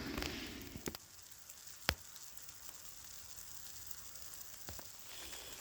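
Wet wood burning in a firepit hisses and sizzles steadily at a low level, broken by a few sharp crackles and pops, with no talking.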